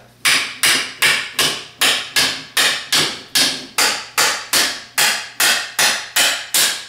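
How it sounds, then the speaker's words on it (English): Steady, evenly spaced hammer blows strike a thick PVC pipe, about two per second, sharp and close with no talking. "I'm just gonna find something to hammer in a"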